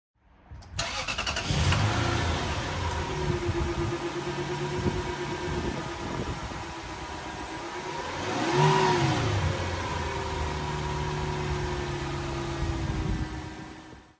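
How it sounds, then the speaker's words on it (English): A Lexus engine starts and settles into a smooth, steady idle nearby, with a brief rev swelling midway before easing back to an even hum. "beautiful engine. Not only the way it runs and how smooth it is"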